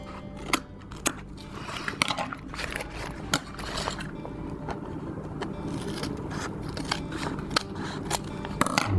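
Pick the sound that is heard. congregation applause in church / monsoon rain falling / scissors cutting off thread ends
scissors cutting off thread ends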